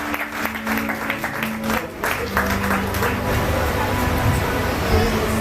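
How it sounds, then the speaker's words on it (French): A church congregation at a closing and consecration service claps steadily and loudly for several seconds, with crowd voices and a sustained musical tone underneath. "On acclame Jésus, on acclame Jésus."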